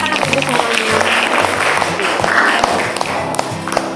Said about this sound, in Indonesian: Tepuk tangan untuk anak-anak ibu semuanya.